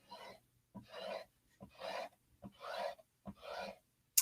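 An angled squeegee rasps chalk paste into a stencil in five or six steady back-and-forth strokes, close and fairly loud, with no talking.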